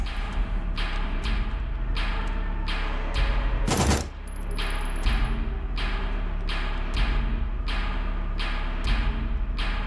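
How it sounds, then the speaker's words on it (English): Gunfire in the survival horror video game Signalis, a rapid series of sharp, evenly spaced shots with a louder burst partway through, all close and loud with no talking. "Nine shots."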